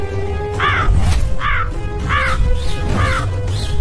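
Crows caw repeatedly, about five harsh calls in a steady rhythm, close and loud over a low rumbling background.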